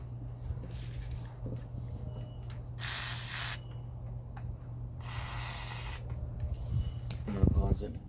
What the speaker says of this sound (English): There's that WD-40.